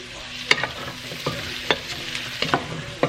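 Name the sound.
stir-frying zucchini with butter, garlic and onion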